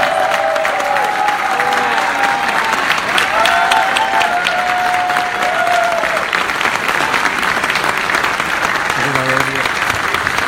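A pageant audience at the Mister Model International 2018 finals night applauds in a dense, steady roar of clapping that lasts throughout, with a few faint tonal sounds mixed in.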